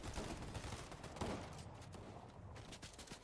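Rapid gunfire from enemies on high ground in a Fortnite match, a dense, steady barrage of overlapping shots with a louder burst about a second in, no talk.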